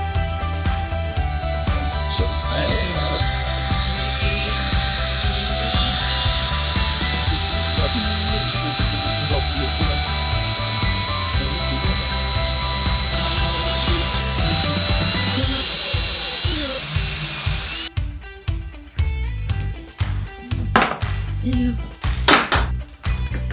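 A power drill bores holes into a DIY 12v waterproof trolling motor battery box, a loud continuous whirring grind for most of the clip, then giving way to a series of short, sharp knocks and taps near the end.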